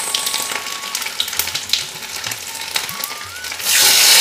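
Grated coconut tossed with cumin, dried red chillies and cardamom into hot oil in a pan, frying with a steady close crackle and sizzle that swells louder near the end, with no talking.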